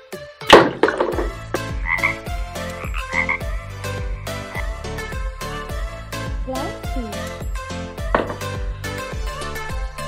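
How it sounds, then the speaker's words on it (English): A toy frog from a children's animal play set croaks in a repeating, rhythmic pattern against a busy background of toy music and clatter, with a louder burst near the start. "Frog."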